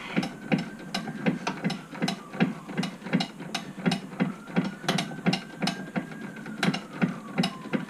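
A hand ratchet clicks in quick, even strokes while a pipe fitting is unscrewed on a Dennis Dart bus, a steady series of sharp metallic pawl clicks close up with no talking.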